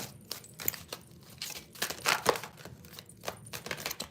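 Deck of spiritual reading cards being shuffled, a series of quick papery riffles and soft flicks at close range, with brief pauses between bursts.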